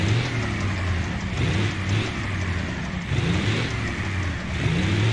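A car engine drones loudly and close as it picks up speed on the approach to a swaying bridge, the pitch rising and falling in a few surges with no talk.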